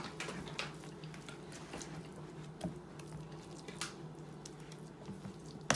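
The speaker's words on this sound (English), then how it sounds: "I'm just gonna take it and spread it out in this pan." Cornbread dressing is spread out in a pan, giving soft, close squishing and sticky patting sounds at an uneven pace, quiet and with no one talking.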